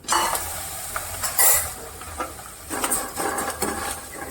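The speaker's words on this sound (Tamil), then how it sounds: "இப்போ நெக்ஸ்ட்டு சேமியாவை போட்டு வறுக்கலாம்." Vermicelli (semiya) fries in ghee for semiya kesari, with a continuous close sizzle under scraping stirs and light clinks of a utensil against the pan, fairly loud with no talk.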